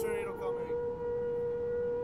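Tornado warning siren in the video game Garry's Mod, a steady, piercing wailing tone held continuously and loudly over a rumbling background.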